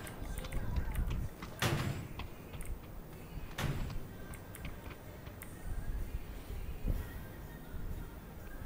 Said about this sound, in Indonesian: Tutup pintu.